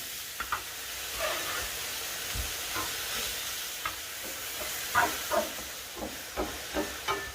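Beef browns in a cast iron pan for beef and broccoli, giving a steady, close sizzle with hissing steam and occasional soft clanks and scrapes as the pieces are shifted.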